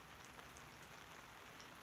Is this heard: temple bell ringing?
no